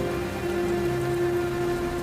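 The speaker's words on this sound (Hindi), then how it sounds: "तेज हवा के साथ बारिश और उसी बीच बिजली कड़कने लगी" Heavy rain lashing down in strong wind, a dense steady roar of drops on surfaces that holds loud and unbroken throughout with no other sounds.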